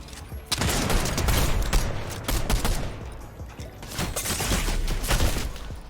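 Gunfire in a video game battle, where a sniper rifle takes down a player: dense, overlapping cracks and bursts from several weapons, loud and continuous with rapid rhythmic volleys, and no clear speech over it.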